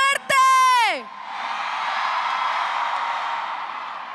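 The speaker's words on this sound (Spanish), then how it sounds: "A ver, un grito fuerte." A large concert crowd roars and shouts in a long, loud sustained swell after a brief sung or shouted voice, filling the venue at a pop show.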